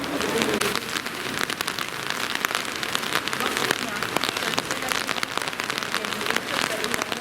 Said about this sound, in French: Mais alors, il pleut toujours.